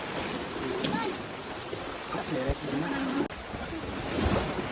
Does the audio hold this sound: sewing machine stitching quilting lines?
no